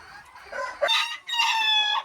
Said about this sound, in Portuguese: E aí coloquei com esse galinho carijó